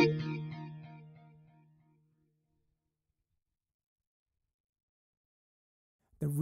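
A single electric guitar chord through an analog delay effect on a Kemper Profiler rings out with echoing repeats that fade away over two seconds, followed by silence and then a brief burst of sound at the end.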